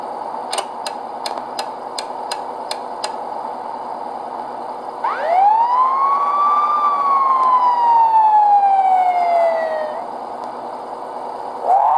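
A toy siren from a Game of Bricks light kit fitted to a LEGO Ghostbusters ECTO-1 10274 gives a quick run of ticking clicks, then one loud electronic wail that rises and slowly falls, with a second wail just starting at the end.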